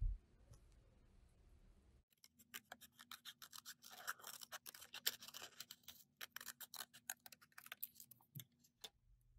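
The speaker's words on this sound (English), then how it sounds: "Now, cut out the shape." Scissors cutting a shape from cardstock, a rapid series of crisp snipping clicks close up after a quiet start, ending with a short pause.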